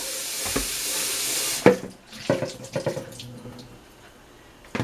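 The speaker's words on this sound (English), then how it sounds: "Rinse this out because this will be the dry bowl." Running kitchen sink tap rinsing out a mixing bowl, a steady rush of water for over a second that cuts off, followed by a few clattering knocks of the bowl being handled.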